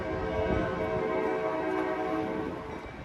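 An Amtrak Capitol Corridor train, number 540 northbound to Sacramento, draws near Oakland Jack London Square with a steady loud rumble and sustained horn tones, the sound easing slightly at the end.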